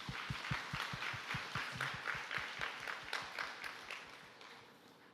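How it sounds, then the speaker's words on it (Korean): A church congregation at a Korean worship service claps in a quick, fairly even rhythm. The sound is faint, sustained for several seconds and gradually tapers off. "하나님께 영광의 박수 올려드립시다."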